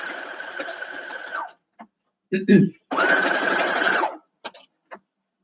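Sewing machine stitching quilt block pieces, two steady humming runs of stitching separated by short pauses, with light handling clicks and some talk nearby.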